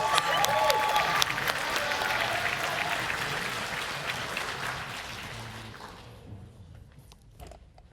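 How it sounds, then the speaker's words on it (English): A tech symposium audience applauds loudly and steadily for several seconds, with scattered cheers, before the clapping thins and fades into quiet. "let's give him the biggest round of applause."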